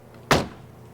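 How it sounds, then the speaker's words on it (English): A car door swings shut with a single solid, close thunk, followed by a short fading resonance in an otherwise quiet space. "In case you're wondering what the door closing thunk sounds like, here you go."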